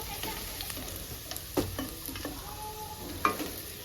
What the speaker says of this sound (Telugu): వేసి కొంచెం ఫ్రై చేసుకోవాలన్నమాట పచ్చివాసన పోయేంత వరకు చూడండి ఉల్లిగడ్డలు ఫ్రై అయినాయి